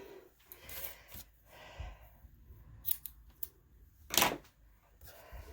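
A few quick scissor snips cutting crochet yarn, close and fairly crisp, with soft handling noises and quiet pauses between them.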